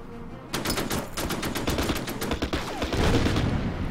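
Rapid machine-gun fire from units attacking an anti-tank gun in the Order of Battle war strategy game, a dense, continuous string of loud shots with no voices.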